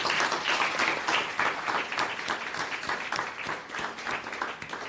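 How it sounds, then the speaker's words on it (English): Live audience at an expert panel event applauding, a dense sustained wash of many hands clapping that swells and eases slightly over five seconds, with no talking. "let's have a round of applause for our panel."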